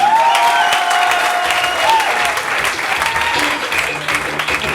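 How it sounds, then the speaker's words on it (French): A comedy festival audience in Goma applauds in a dense, sustained wave of clapping, loud and close throughout, with a brief voice cutting in early on. "Applaudissez, applaudissez."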